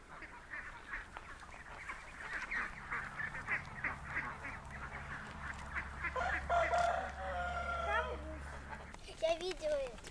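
A rooster crows amid outdoor farmyard noise in the Russian countryside, with people talking throughout and other birds calling nearby.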